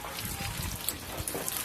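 Curing water splashing and trickling over new concrete in the stair and lift section of a stadium under construction, a steady close patter that ends abruptly, with a faint voice in the background.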